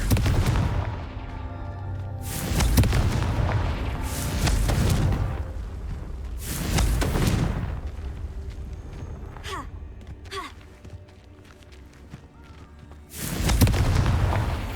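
Confringo blasting spell in the video game Hogwarts Legacy, several heavy booming explosions with rumbling tails spaced a few seconds apart, loud and close, with brief whooshing effects between blasts.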